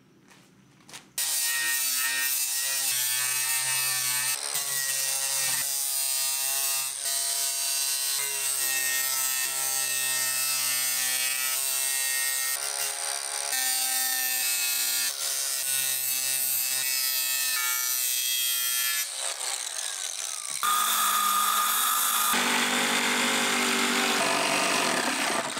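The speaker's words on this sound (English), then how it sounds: "I wanted to smooth off these corners before I cut it." A power tool grinds and sands the corners of wooden box seats on a center console fishing boat, a loud buzzing whine running almost continuously with brief pauses and pitch shifts between passes.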